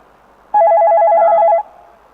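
A telephone rings once for an incoming call: a loud, close electronic warble with a rapid trilling pulse lasting about a second, then quiet.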